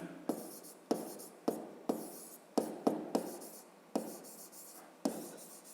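Handwritten numbers scratch onto paper with a pen, about ten quick, crisp strokes in an uneven rhythm, close and quiet, with no talking.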